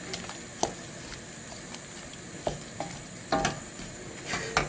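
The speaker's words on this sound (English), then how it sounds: "So give those a good stirring" Spinach and pak-choi being stirred in pots heading to the boil, a quiet bubbling hiss broken by a handful of sharp spoon clinks and knocks against the pans, no talking.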